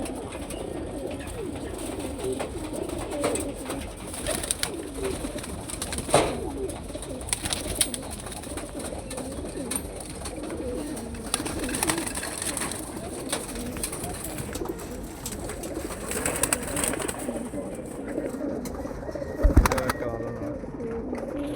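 Pigeons cooing repeatedly in a loft, soft low throaty coos overlapping and rising and falling over steady background noise, with occasional wing flutters and small knocks.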